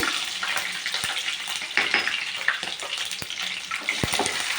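Mustard seeds and ginger-garlic paste fry in hot oil for a fish curry, giving a steady close sizzle with scattered sharp pops and crackles throughout, with no talking.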